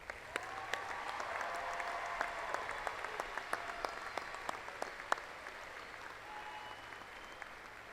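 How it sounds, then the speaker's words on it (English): Applause for new graduates at Angelo State University's fall 2015 commencement ceremony, a steady, fairly distant wash of crowd clapping sustained throughout, with a few sharper individual claps standing out. "Please join me in another round of applause for our newest ASU alumni."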